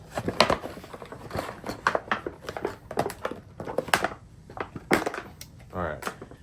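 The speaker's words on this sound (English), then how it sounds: "so that was just plastic packaging" Plastic packaging is pulled off a ceiling mount with close crinkling, rustling and a few sharp clacks in uneven bursts, while a person talks over it.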